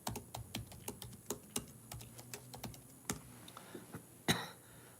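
Close, crisp keystrokes come in uneven bursts as someone types on a computer keyboard, ending with a louder thump.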